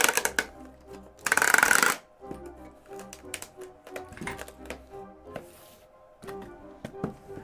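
A tape gun zips loudly across a cardboard box for about a second, sealing a parcel at a home T-shirt and mug printing business, amid scattered taps, thumps and handling knocks before and after.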